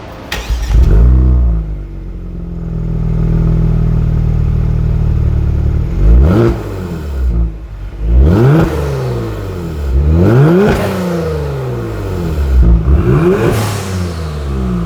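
Infiniti G70 fitted with catless primary and secondary downpipes, idling with a steady rumble before several sharp revs climb and fall back, loud and close with no talking.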